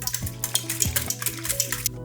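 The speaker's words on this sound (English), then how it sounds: "And then we're gonna grab a whisk" Flax egg whisked into a mixture in a mixing bowl for vegan sourdough cinnamon buns, with quick, rhythmic scraping and clinking strokes heard up close and alone.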